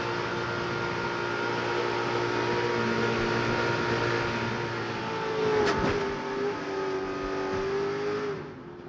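NASCAR stock cars racing in the 2007 Daytona 500 roar past in a continuous, dense engine drone that swells as the pack approaches, with one sharp transient partway through and a steady pitched whine before the sound cuts off.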